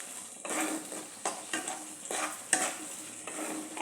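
Spices for chana masala fry and get stirred in a hot pan, with a steady sizzle broken by repeated scraping strokes of a spoon, close and fairly loud, with no talking.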